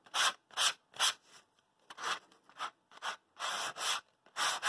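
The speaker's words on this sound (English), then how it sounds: "I'm just going to go in here with a little bit of 150 grit sandpaper and just" Pallet wood is roughed up with 150 grit sandpaper by hand, giving about a dozen quick, rhythmic rasping strokes close up, with short pauses between them and no voices.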